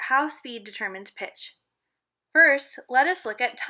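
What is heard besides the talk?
No everyday noises stand out.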